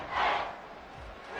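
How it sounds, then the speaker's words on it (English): Stadium crowd in Madden 24 swelling into a loud cheering roar, peaking briefly then easing and rising again, with no talk over it. "This crowd turning up the decibel level"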